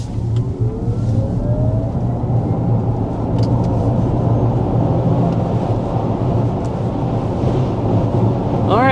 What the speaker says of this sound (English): that was a quick acceleration with our Prologue Elite trim